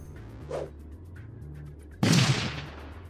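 A grenade goes off in the turn-based video game Shadowrun Dragonfall Director's Cut. One sharp blast with a short decaying rumble rises over quiet background music and soft interface blips.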